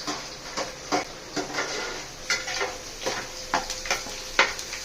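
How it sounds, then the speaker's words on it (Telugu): Garlic cloves frying in oil in a pan, a soft steady sizzle broken by repeated stirring scrapes and clinks of a spoon against the pan, close and moderately quiet with no talk. "తర్వాత వెల్లుల్లిపాయలు వేసుకొని బాగా వేయించుకోవాలి"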